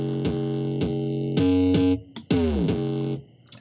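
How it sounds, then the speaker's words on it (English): An 808 bass from a Helix production project, processed with gritty high-end distortion, plays a few sustained, pitch-gliding notes that ring out loud and close, with short gaps between them. "So this is what the 808 sounds like."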